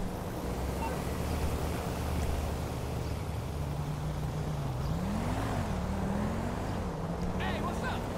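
A car pulls up in GTA Online, its steady engine drone rising and dipping in pitch as it approaches, with game ambience and voices mixed over it.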